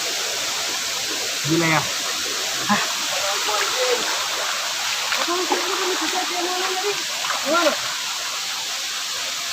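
The Pelangi waterfall roars as a steady, loud wash of falling water that fills the whole scene, while a voice speaks briefly over it.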